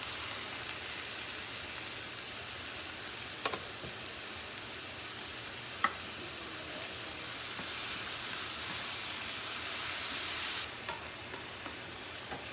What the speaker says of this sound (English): Add the tomatoes.